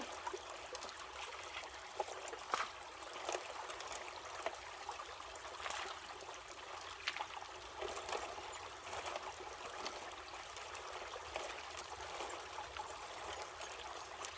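Creek water runs steadily through a river sluice with gravel and rocks, a continuous broadband wash with small trickling splashes, close and moderately loud throughout with no voices.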